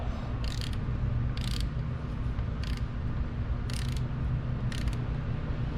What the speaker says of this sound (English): This is a really nice little 1/4-inch drive snap-on torque wrench.